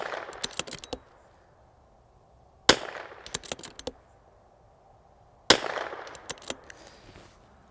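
Three sharp gunshots from a .22LR precision rimfire rifle firing hot ammunition outdoors, spaced a few seconds apart, each a loud crack followed by a scatter of fainter echoes and clicks.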